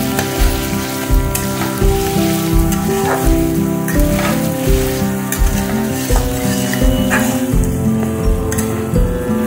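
Spices fry with garlic, green chilies and sugar in a pan, a loud continuous sizzle with periodic stirring scrapes across the pan, no voices.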